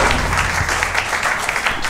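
Steady, dense clapping from a group fills the whole moment, close and loud without any break.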